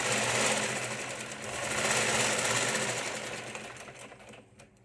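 A sewing machine stitches a seam on a bag or blouse waistband piece, a close, steady fast-running whir for several seconds that slows and stops near the end, with no talking.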